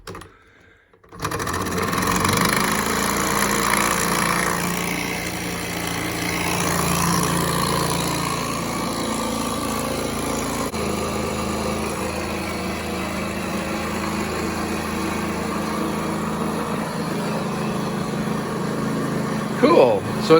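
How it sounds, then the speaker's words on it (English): A small Stirling hot air engine runs continuously, driving a generator that powers LED street lamps and a bridge light on a model layout, giving a steady close mechanical whir and clatter, with a voice speaking over it. "my engine is going to run all the lights, the street lights, and the light in the bridge"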